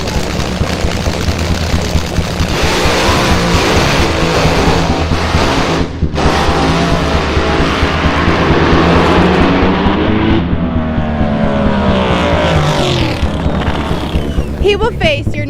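A Top Fuel dragster engine roars loud and close at a drag-racing qualifying meet, with a harsh sustained blast, a brief dip partway, then another surge and rising whine.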